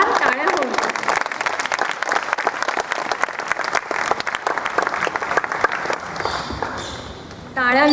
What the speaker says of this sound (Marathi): त्यासाठी आमच्यासाठी एकदा तुम्ही जोरदार टाळ्या होऊ.